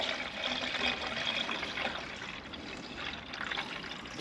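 Pure antifreeze poured into a car's coolant reservoir, a faint, continuous liquid gurgle and trickle of fluid filling the plastic tank, quiet and unbroken with no talking.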